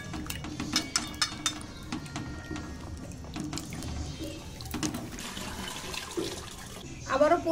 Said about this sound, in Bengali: এখানে গোটা সবজিগুলো সব ধুয়ে নেব।